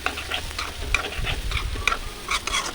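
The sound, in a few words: potatoes being stirred and fried in oil in a pan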